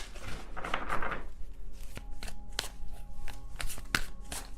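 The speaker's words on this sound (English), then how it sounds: "I can't shuffle this card that way." Tarot cards riffle and slap together in a brief shuffle, followed by scattered soft taps and clicks, close and quiet.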